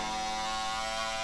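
A cordless hair clipper with a rotary motor runs in a steady, close buzzing hum with strong tonal overtones, unbroken and alone for about a second.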